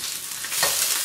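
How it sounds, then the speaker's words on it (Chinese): Ginger and scallion pieces stir-fried in hot oil in a home kitchen wok, a brief close sizzle with scraping stirring, loud and alone without talk. "先把姜爆香。 姜爆香以后，加入这个葱段。"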